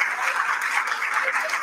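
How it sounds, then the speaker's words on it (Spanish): At a charity concert, a brief burst of audience clapping sounds as a steady, moderately loud wash of many hands, with no voices rising above it. "Un aplauso muy fuerte de La Naval"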